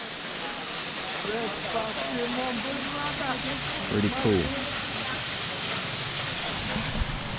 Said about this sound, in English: Now we get to see a waterfall.